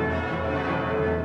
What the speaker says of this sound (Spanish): El día amanece con el furioso repicar de las campanas.